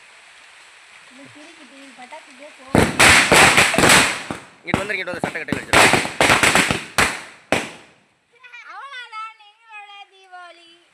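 A rapid string of firecrackers crackles loudly for several seconds in bursts during a Diwali celebration, with people talking before and children's voices chattering afterward.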